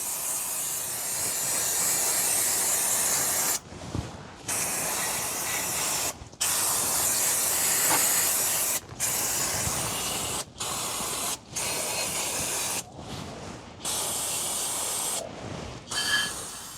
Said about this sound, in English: You have to parts cleaner it, or else the car will smell forever and the lube will spread everywhere. So let's spray it.